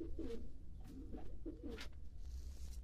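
Pigeons coo in a coop in repeated soft, low, throaty bursts, close and moderately quiet, with no talk over them.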